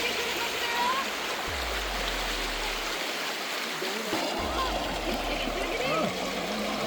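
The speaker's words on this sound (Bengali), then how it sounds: "জলের ধারাটা একটু দেখিয়ে দিচ্ছি।" A strong stream rushing over rocks at Jayanti in the Dooars, a steady broadband roar throughout, with people talking and calling faintly over it.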